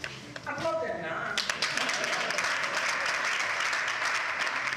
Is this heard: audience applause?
yes